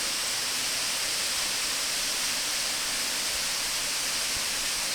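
Cascade Creek's East Fork flows through a steep gorge at Hanging Rock State Park, a constant broad rushing roar of water below, steady and unbroken with no voices.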